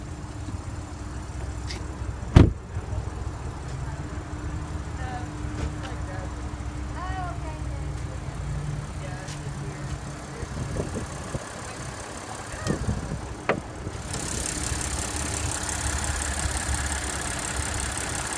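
A 2015 Audi Q7 3.0T with its 3-liter supercharged V6 TFSI engine idles steadily with a low, even hum, a few clicks and knocks from the bay, then a brighter hiss joins near the end.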